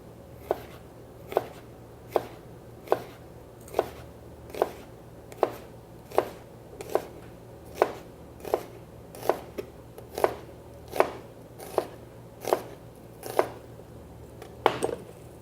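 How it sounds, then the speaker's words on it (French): A chef's knife chops onions on a cutting board in a steady, even rhythm of about twenty crisp, close knocks, with no voices. "Et là, on va commencer à tailler."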